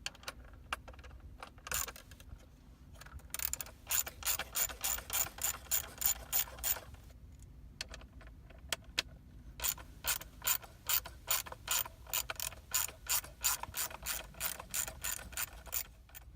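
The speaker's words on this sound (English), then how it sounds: "take a T30 Torx bit and remove these 4." A ratcheting driver with a T30 Torx bit loosens the screws on a Grant Revolution airbag steering wheel, making bursts of rapid clicking that stop and restart between screws, close and fairly quiet.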